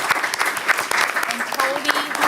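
A room full of people at a school board meeting claps in sustained, close applause, with voices murmuring underneath.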